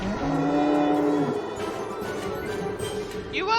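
Cartoonish cows moo in the video game Shadows Over Loathing, several loud low drawn-out bellows over game music and effects, with a rising sweep at the end.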